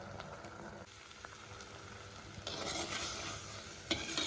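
Snake gourd and dried fish avial simmering uncovered in a pan, giving a steady soft bubbling sizzle that grows louder and brighter partway through, with a brief stir or clink near the end.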